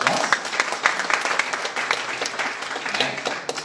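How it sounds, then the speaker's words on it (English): A seated audience at a company leaders' sharing event applauds loudly, a steady stream of overlapping hand claps with some sharper individual claps, gradually easing off near the end. "Can we give all of them a round of applause?"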